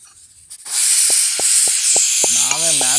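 Steam hissing loudly and steadily from a pressure cooker on a home kitchen stove while jeera rice and sambar cook, with a row of short tonal pips and a warbling tone cutting in near the end.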